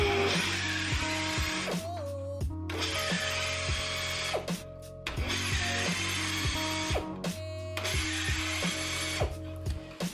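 A Dent Fix DF-15DX spot weld drill cuts through a vehicle body panel in four loud whirring bursts with short pauses between them, a close mechanical grinding whine with no talking.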